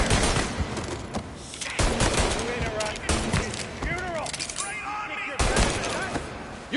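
Bursts of gunfire rattle through a shootout in Mafia: Definitive Edition, with dense volleys and single shots layered over voices shouting across the scene.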